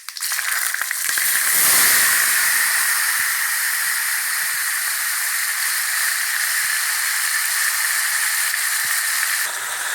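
Tomatoes hit hot oil already tempered with mustard seeds, chillies and asafoetida, for tomato thokku. A loud burst of sizzling swells in the first two seconds, then settles into a steady, close hiss with a few small pops, with no talk.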